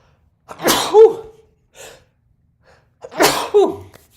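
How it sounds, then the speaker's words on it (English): Two sharp sneezes, each preceded by a quick inhale, separated by a short pause; close and fairly loud with quiet in between. "I'm gonna sneeze."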